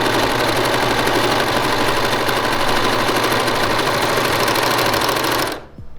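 A sewing machine runs continuously as fabric is stitched along its edge, a dense rapid mechanical chatter that stops abruptly near the end.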